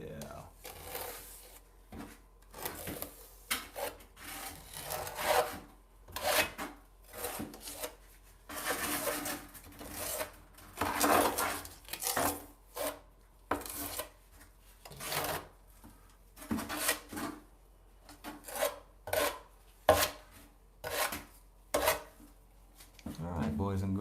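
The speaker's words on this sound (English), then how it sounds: "Mix that mud." Tile thinset mud being mixed by hand for tiling a niche with metal edging, repeated scraping and rubbing strokes in an irregular rhythm, close and fairly loud, with short pauses between bursts.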